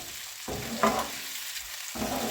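Chopped tomato is added to a Lahori-style fish masala and stirred in the pan, giving a continuous close sizzle broken by a few scraping stirs.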